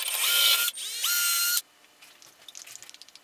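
A power drill whirs loudly in two bursts, driving screws into a homemade tubular teeter-totter mouse trap, with a rising motor pitch on the second burst, followed by faint clicks and light tapping.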